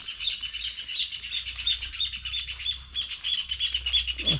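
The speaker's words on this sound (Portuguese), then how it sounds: "Os passarinhos cantando." Small birds sing at a countryside farm, a steady run of bright repeated chirps and tweets from nearby, with a low background hum and no talking.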